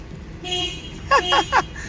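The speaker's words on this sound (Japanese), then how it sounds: "トヨタって感じのクラクション。" Two short horn honks from a Toyota SR5 pickup truck, fairly close, the second following quickly after the first, over a quiet background with faint earlier mechanical noise.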